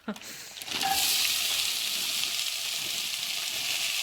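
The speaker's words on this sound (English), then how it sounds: "So I'm now going to put the whole diced onion into the pan." Diced onion for a chicken curry drops into a hot pan with a sudden burst of sizzling. It then settles into a loud, steady hiss that carries on without pause.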